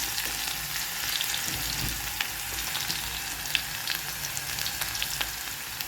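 Garlic, mustard seeds and cumin sizzle in hot oil over a lowered gas flame for a drumstick bhaji, a dense, steady hiss with scattered small pops and crackles throughout.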